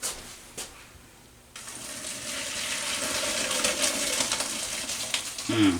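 Cooked pasta water being drained, a gushing pour that starts abruptly and builds into a steady rushing splash for several seconds, close by, ending with a brief clatter.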